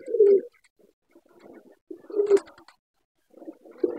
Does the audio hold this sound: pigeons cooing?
yes